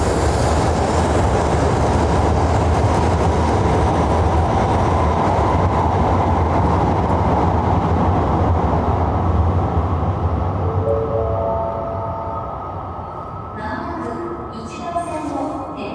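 Japanese bullet trains, the Hayabusa and Komachi, rush past at high speed with a loud, sustained roar of wind and rail noise that dominates for about twelve seconds before easing off, leaving fainter rumble and scattered station sounds.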